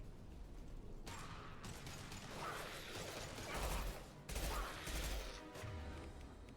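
Impact shot weapon fire in Mass Effect 2 on Insanity difficulty, heard as dense mechanical bursts and crashing blasts over a constant game background, loud and continuous.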